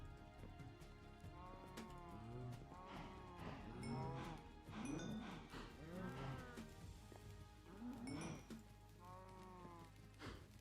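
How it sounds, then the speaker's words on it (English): Cattle in the video game Minecraft moo repeatedly in overlapping calls near a farm stable, the drawn-out lowing rising and falling over a steady background hum. "Oh, hello cows."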